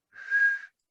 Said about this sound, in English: how to whistle